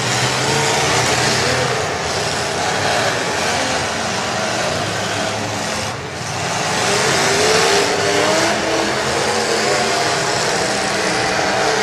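Race car engines roar and rev at the start of a Utah race in a dense, loud, continuous wall of engine noise, with a brief dip midway before surging again.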